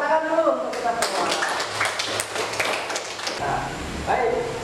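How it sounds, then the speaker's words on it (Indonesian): A primary school class in a lesson claps for everyone, a dense burst of many hands patting for about three seconds, with voices talking over the room before and after. "Tepuk tangan dulu untuk kita semua."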